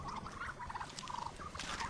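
Turkeys gobble and chatter in quick warbling bursts in an icy farmyard in winter, moderately close, with soft scuffling and patter between the calls.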